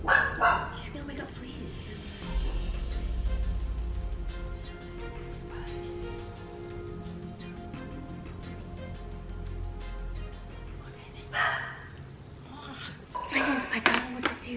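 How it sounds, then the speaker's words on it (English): A dog barks and yips at night indoors, with short bursts near the start and again toward the end, while people talk quietly over a low hum. "Phoebe has heard our noises. She's barking."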